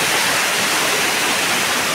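The large Bahubali waterfall at Ranewadi roars in a loud, steady, unbroken rush of falling water, with no voices heard.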